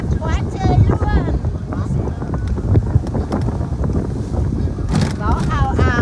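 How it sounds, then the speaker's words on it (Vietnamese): Strong wind blows across a boat at sea, producing constant loud rumbling buffets on the microphone, while people talk and call out over the gusts. "Gió ào ào."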